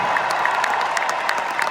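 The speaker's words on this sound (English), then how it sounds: "So give every member of our crew a huge round of applause" A concert audience at a show in Greenville claps for the road crew, a steady wash of applause with scattered claps from a large arena crowd, heard alone.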